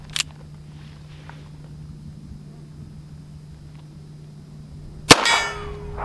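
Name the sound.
Chiappa 1873-22 revolver shot hitting a steel plate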